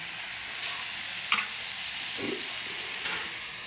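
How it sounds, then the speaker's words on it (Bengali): Khesari greens with flat beans and eggplant are stirred and pressed in a hot pan over low heat, giving a quiet, steady sizzle with a few soft scraping strokes and no voices. "এই যে চাপা দিয়ে দিয়ে নাড়ব।"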